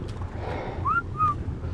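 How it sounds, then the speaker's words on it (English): Two short rising whistle tones, close and clear over low ambient game noise, issued as an aggressive command to a tamed Baryonyx in Ark Survival Ascended. "I'll whistle aggressive"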